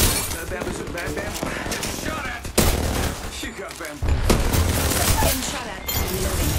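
Rapid gunfire rattles in a ranked duos round of a tactical shooter video game, loud bursts and single cracks with brief pauses, joined by what sounds like voice chatter.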